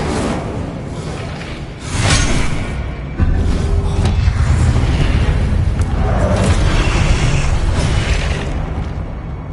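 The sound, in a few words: Confringo and Incendio spell blasts in Hogwarts Legacy video game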